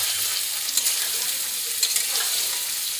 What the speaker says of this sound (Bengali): গরম তেলের মধ্যে সবজিগুলো ভাজা হচ্ছে